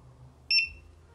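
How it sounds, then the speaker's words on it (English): A carp fishing bite alarm with rubberized buttons gives a single short, bright electronic beep as it is switched on, close and clear over a faint low background hum. "The bite alarm is now on."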